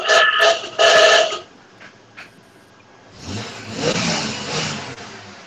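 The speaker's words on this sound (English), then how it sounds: "That's a cool ass car." A car engine revs loudly in two bursts, then a fainter engine swell rises and fades as the car passes by, with no talk over it.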